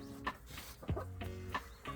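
Hens in a coop, with one believed to be an Araucana-type blue-egg layer among black-boned silkie-type chickens, clucking in short, close, repeated bursts, with one deeper drawn-out call midway.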